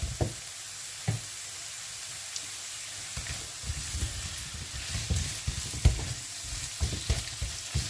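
Frozen garlic and minced ginger sizzle steadily in a pan with carrots, a quiet constant frying hiss broken by occasional knocks and stirring scrapes.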